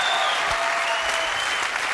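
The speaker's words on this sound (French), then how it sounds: "Applaudissements encore pour Charlie, Lulu, s'il vous plaît." A French TV studio audience on a game show applauds steadily, dense even clapping filling the whole moment without pause.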